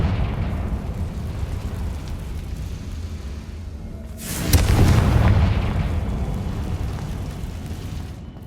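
A single deep boom from a Confringo spell explosion in Hogwarts Legacy swells up mid-clip and rumbles away, set against steady low game ambience.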